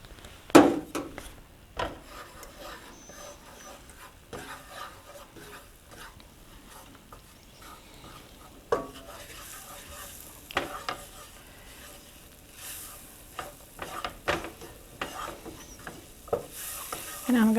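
All-purpose flour being stirred into melted butter in a pot makes soft scraping and rubbing strokes with faint sizzling, quiet and irregular, with a few louder clinks of the utensil against the pot.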